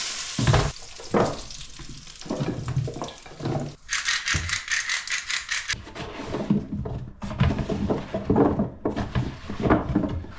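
Potatoes tipped into hot roasting fat for Sunday roast potatoes, a loud close sizzle with rattling and clattering as they land and settle, no talk.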